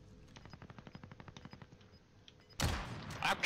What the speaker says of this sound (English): oh, you're shooting people, Jared.